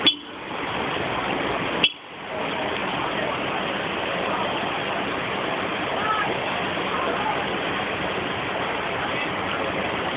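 Floodwater rushing down Avenida Brasilusa in São José do Rio Preto, a loud continuous broadband roar that runs unbroken after a sharp knock near the start, with people talking over it.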